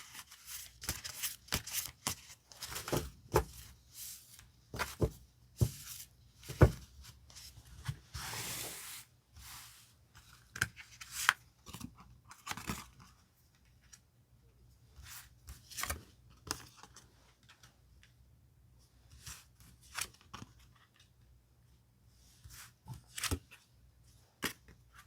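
Tarot cards shuffled, slid and picked out by hand, heard as a long run of soft, close rustles and light taps that come in irregular bursts, with brief pauses between them and no talking.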